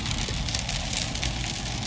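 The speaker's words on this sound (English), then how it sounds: "Rain sometimes comes down in thin little drops and sometimes really big drops." Big raindrops pattering on a car, a dense, continuous hiss of drops with no voices, close and fairly even throughout.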